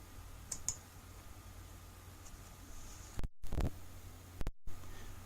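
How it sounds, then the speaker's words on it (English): Two mouse clicks in a software menu, each a sharp, brief tick, heard close and quietly over a faint steady hiss with no talking. "go to the Projects menu and click on New Blank Project."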